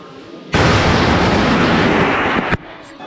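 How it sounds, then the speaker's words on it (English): Rapid string of firecrackers at Mount Qingcheng in China, a dense two-second crackling burst like machine-gun fire, loud and continuous, ending abruptly. "But that was some firecrackers, if you didn't realise."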